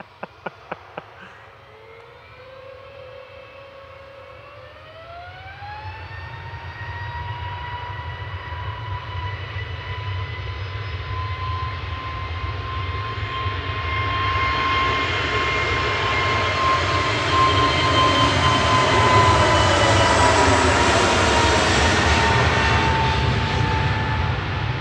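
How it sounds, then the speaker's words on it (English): An EasyJet Airbus A321neo takes off from Manchester Airport bound for Keflavik: a jet roar builds steadily with a rising engine whine, swelling louder and broader as it powers away, with no talk over it. "EasyJet sending one of their A321neos up to Keflavik there, flight 2259"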